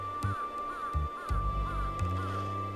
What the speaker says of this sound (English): Oh, birds! Get out of here,